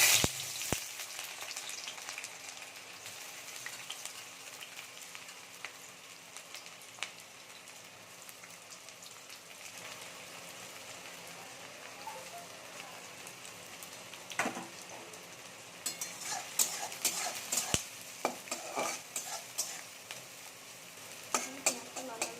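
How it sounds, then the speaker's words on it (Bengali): Onions fry with salt in a pan for a Bengali-style chicken dish, giving a steady soft sizzle throughout, with louder clicks and scrapes of stirring toward the end. "পেঁয়াজটা এবার লাল লাল করে ভেজে নেবো, আর একটু লবণ দিয়ে দেবো।"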